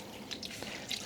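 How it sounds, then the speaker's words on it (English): Water dripping from wet cotton yarn being gently squeezed after soaking for home dyeing, a few faint close drips and splashes. "I'm just gently squeezing out some of the water"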